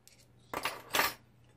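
Spoon scraping and clinking against a pot while stirring corn syrup and citric acid for sour gummy candy, two short close metallic scrapes in otherwise quiet surroundings.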